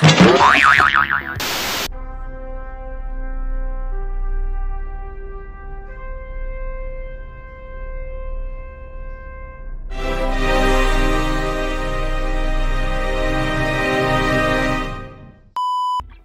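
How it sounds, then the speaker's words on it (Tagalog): Electronic claw machine game tones in a Baguio amusement spot: a loud boing followed by sustained beeping notes that step between pitches, then a denser burst of bright jingling chimes, ending in a short beep. "Wow, nagka-claw machine si Jello."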